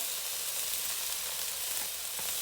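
Vegetables seasoned with black pepper, garlic powder, chili powder, lemon pepper and Old Bay fry in a pan, giving a steady, even sizzle that holds at constant loudness throughout without breaks or talk.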